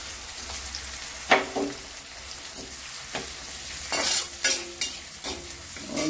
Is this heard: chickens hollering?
no